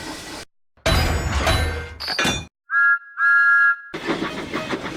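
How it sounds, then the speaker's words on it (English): Steam whistle of Thomas the Tank Engine in the Trainz railway simulator: a short shrill blast, then a longer one, loud and close, set between bursts of heavy clanking and rumbling noise. "He whistled merrily as he rolled along the new branch line."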